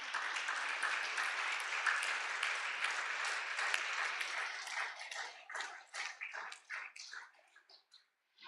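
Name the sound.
audience applause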